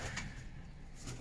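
Faint pigeons kept as pets cooing on a rooftop, a soft low murmur under steady background noise with no voices.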